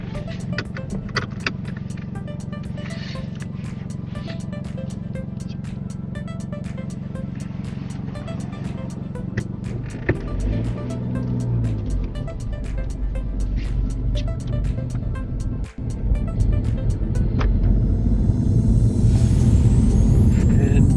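Car on a UK mock driving test in Gateshead pulling away, a steady low engine hum inside the cabin that builds louder in the second half as it drives off.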